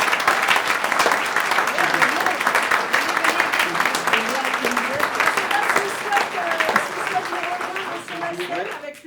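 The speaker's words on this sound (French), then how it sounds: "on peut les applaudir très très fort" Theatre audience applauding the play's authors, a dense, sustained roar of clapping filling the room, with voices talking over it and the clapping thinning slightly toward the end.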